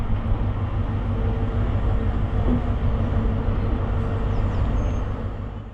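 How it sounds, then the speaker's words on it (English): A train pulls into Barnstaple station in North Devon, its steady low rumble and wheel noise loud and continuous with a faint brief squeal partway through, no voices. "At last, the train arrives."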